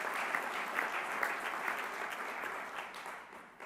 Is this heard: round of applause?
yes